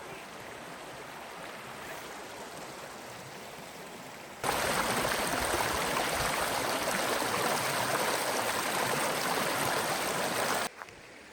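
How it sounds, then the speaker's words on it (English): Small stream of water flowing through rocks at Salt Springs State Park, a steady close gurgling rush that grows markedly louder partway through before dropping off again near the end. "there's just a lot of cool little water flows down through here"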